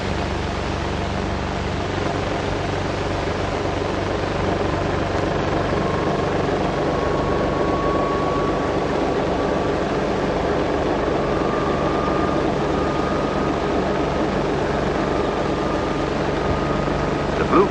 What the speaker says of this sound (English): Now, here comes the freight engine.